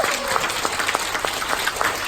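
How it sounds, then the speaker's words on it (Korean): Applause at a network-marketing business talk, dense continuous clapping from a crowd, loud and steady throughout the short burst. "여러분 박수 한번 주세요"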